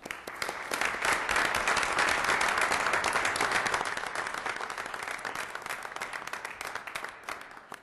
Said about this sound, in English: Have another round of applause for our great state representative.